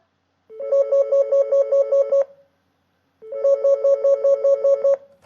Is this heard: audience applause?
no